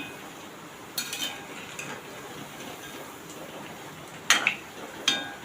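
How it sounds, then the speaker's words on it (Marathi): Corn fritters (bhaji) being flipped in hot oil over a high gas flame, heard as a few soft metal utensil clinks and scrapes spaced across the moment over a faint, low background of frying. "फास्ट गॅसवर ही भजी पहिले तळून घ्यायची चांगली सेट करून घ्यायची आता इथे आपण भजीला पलटी करून घेऊया"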